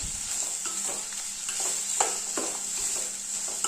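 Onions and curry leaves sauté in a pan for tomato thokku, a soft steady sizzle broken by repeated light scrapes and taps of a spoon stirring them, close and alone.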